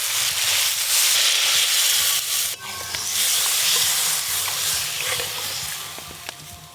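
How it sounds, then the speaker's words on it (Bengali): Tangra fish and eggplant curry boils in a pan on the stove, giving a loud, steady, close hissing bubble that dips briefly and then carries on evenly. "ঝোল খুব ভালো করে ফুটে গেছে"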